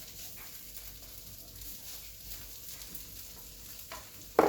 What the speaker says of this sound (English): I have 3 tablespoons of chopped garlic. I'm just going to cook that up for about a minute or so.